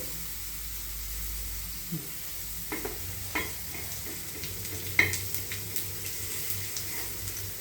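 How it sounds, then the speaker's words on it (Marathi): Sesame seeds spitting and crackling in hot oil in a home kitchen pan while cooking a ridge gourd kharda, heard as scattered faint sizzling pops over a low steady hiss, with a few sharper crackles. "थोडेसे तडतडायला लागले तीळ"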